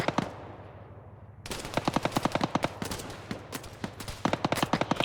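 Machine gun fire in Arma 3 comes after a quiet start as rapid, rattling bursts of shots, fairly loud and repeated in several strings with short pauses between them.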